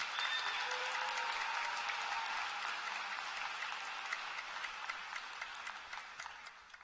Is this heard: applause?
yes